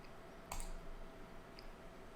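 A computer mouse button clicks while working in Blender, one short close click followed by a fainter second click over a quiet room hum.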